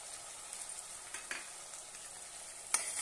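Tomato paste with curry leaves sautéing in a pan for a pea and potato curry, giving a faint, even hiss with a few soft stirring clicks and one brief louder scrape near the end.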